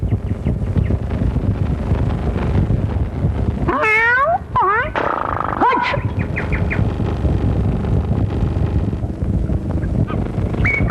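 A person imitates a cat's meow in a 1991 Tamil comedy film, a burst of several rising and falling meow-like cries in the middle, set against steady noisy background.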